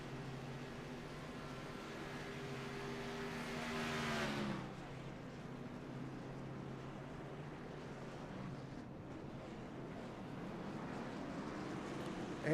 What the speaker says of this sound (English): As the entire field makes their way down on the pit road